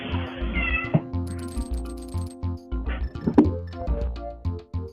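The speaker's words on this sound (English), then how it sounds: "Did I just hear a cat?" A Maine Coon cat meows a few times near a microphone, mixed with music and game sounds from a livestream of a game tournament.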